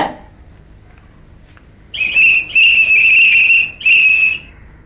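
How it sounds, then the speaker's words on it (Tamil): Three loud, shrill whistle blasts are blown close by in a Tamil comedy drama scene, the first short and the next two longer, with brief gaps between them after a quiet opening. "எதுக்காக விசில் அடிக்கிற?"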